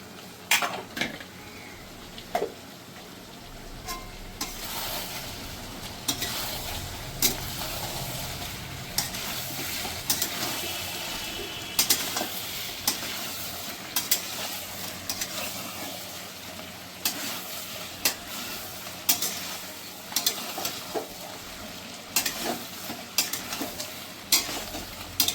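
Mutton sizzles and fries in a pan for a curry after the spice powder goes in, with a continuous hiss broken by repeated spoon scrapes and clanks against the metal as it is stirred, and no talking.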